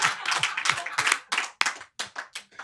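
Hands clapping in a podcast studio, a short burst of separate claps in uneven rhythm, close and fairly soft, fading out into scattered final claps.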